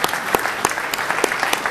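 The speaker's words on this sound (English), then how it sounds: "I think a round of applause is in order for this gentleman who's brought the ukulele." A small audience at a gaming expo panel claps for a man with a ukulele, a brief burst of scattered, fairly close hand claps.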